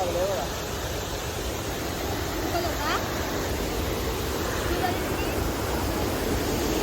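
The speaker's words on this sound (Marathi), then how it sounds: "या एवढ्या मोठ्या धबधब्याचा आवाज एवढा हे करतोय" A large Konkan waterfall near Lanja, Ratnagiri, roars as a dense, steady rushing wash of water, loud and unbroken throughout.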